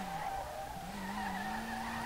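A car drifts in the racing game SLRR, its tires squealing in a long, steady skid over a droning engine tone that rises slightly. The sound is continuous and moderately quiet, with no voices.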